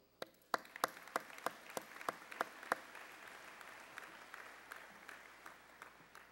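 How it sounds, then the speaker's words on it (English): Crowd applause at a graduate commencement ceremony, sharp individual claps standing out early, then settling into steady, moderately loud clapping from a large audience. "So please give yourselves a round of applause."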